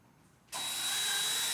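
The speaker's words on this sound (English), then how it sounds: "we're going to sink that screw into there" A power drill drives a screw into the upper hinge of an interior door, starting abruptly after a quiet moment and then whirring steadily and loudly up close.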